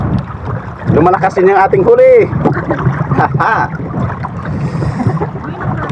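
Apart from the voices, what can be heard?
strong wind at sea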